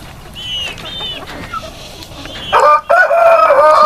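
A rooster crows loudly and close by on a farm near the end, preceded by softer high bird calls and clucks from a mixed barnyard flock.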